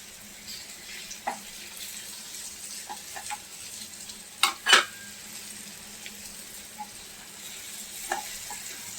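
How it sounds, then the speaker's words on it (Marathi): Stuffed capsicum peppers fry in oil with a soft, even sizzle, close but quiet, broken by a few light clicks and a couple of brief louder pops. "सगळ्या आपल्या मिरच्या लावून घेऊया छान आधी तेलावर फ्राय होऊ द्या मस्तपैकी"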